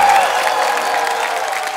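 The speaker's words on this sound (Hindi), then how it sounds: "एक बार फिर से जोरदार तालियां हो जाए सभी परफॉर्मर्स के लिए।" Studio audience applauding performers on a Hindi TV comedy show, a dense steady wash of clapping and crowd noise held at an even level throughout.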